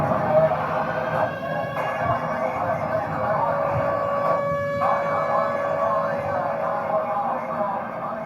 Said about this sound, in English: Of course, the tornado sirens were going off